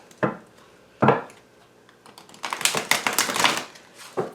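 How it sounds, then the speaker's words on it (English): Large coated tarot cards are shuffled by hand. A couple of soft taps are followed by a dense, rapid flutter of card edges riffling together, close by. "These cards are really, really big, and I find them very difficult to shuffle and hold."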